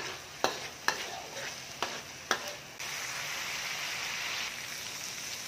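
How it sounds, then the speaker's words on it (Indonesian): Spices with lemongrass and galangal are sautéed in a pan: several sharp spatula scrapes and knocks come first, then a steady close sizzle of frying takes over. "Kita tumis sampai wangi."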